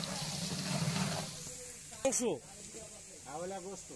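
Oil hits a pan holding onion and garlic with a soft sizzling hiss, fading into quieter frying while people talk over it.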